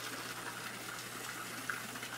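Steady water gushes and splashes as it returns through a pipe into an aquaponics sump with air stones, a continuous close rushing that stays even throughout.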